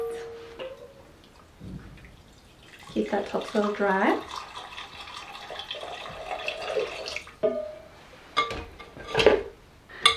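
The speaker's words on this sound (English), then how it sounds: "Just going to pour water in the base." Water is poured into the base of a potted fiddle leaf fig, a splashing trickle running for several seconds with a few clinks, while a person speaks briefly before it.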